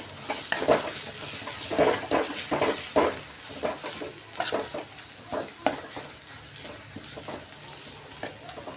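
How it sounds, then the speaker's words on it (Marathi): Dry spice masala and chicken sauté in hot oil for Kolhapuri-style tambda pandhara rassa and dry chicken, with a continuous close sizzle broken by repeated stirring scrapes in the pan. "आता हे ड्राय मसाला मी घातलेले आहेत त्याच्यामध्ये ते पण आपण परतवून घेणार"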